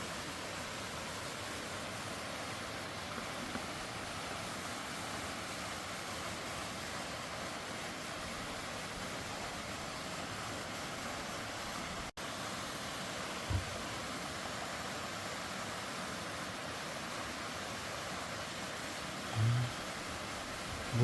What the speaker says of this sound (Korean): 여기가 천당폭포라고 이름이 지어졌다고 그럽니다. 저 물줄기 좀 보십시오